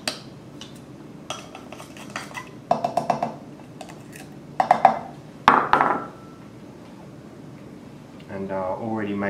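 A spoon clinks and scrapes against a container while stirring sugar into cooled tea for kombucha, coming in several short bursts of close knocking with pauses between them, and someone talks toward the end.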